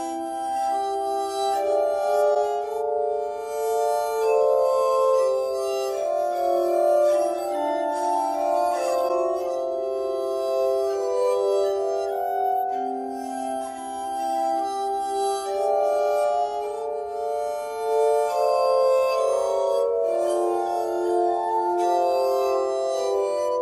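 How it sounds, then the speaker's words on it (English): A glass harmonica plays a sustained melody of pure, ringing bell-like tones with shimmering overtones, notes overlapping smoothly and steadily at moderate loudness with no voices. "Glass harmonica."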